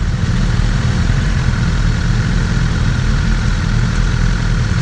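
A 2018 BMW S 1000 RR motorcycle engine runs in second gear, a loud steady low rumble with constant wind-like roar throughout and no speech over it.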